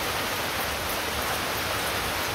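Rain comes down over a village yard with rice spread out, a continuous soft wash of noise, even and unbroken, with no one talking.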